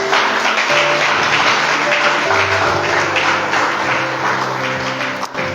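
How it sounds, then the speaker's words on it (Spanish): Church congregation applauding together in a sustained, dense wash of clapping, loud and steady for several seconds, with music-like tones and some voices mixed underneath. "Denle un aplauso grande al Señor."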